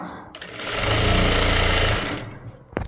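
A sewing machine stitches a blouse neck seam in one loud, steady mechanical whir of about a second and a half. The run winds up and winds down, followed by a sharp clack.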